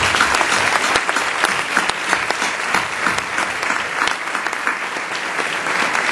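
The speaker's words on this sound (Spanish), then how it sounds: "pido a todos los asistentes un fuerte aplauso." A large audience at a national marketing awards ceremony applauds steadily, a dense, loud, sustained clapping that fills the whole stretch without pause.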